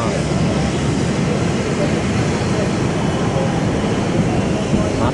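A jet airliner landing at Chubu Centrair Airport, heard from the sky deck as a loud, steady roar of engine and wind noise that fills the whole stretch.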